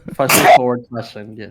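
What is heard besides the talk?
sneeze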